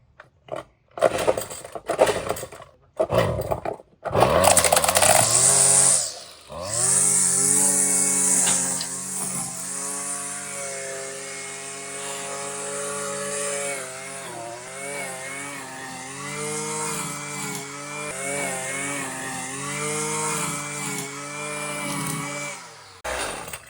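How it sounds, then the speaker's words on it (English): Husqvarna string trimmer with a freshly replaced line: a few sputtering pulls and short bursts, then the small engine catches and runs steadily with a buzzing drone that rises and dips as the throttle varies. "our Husqvarna string trimmer is reset and we are good to go"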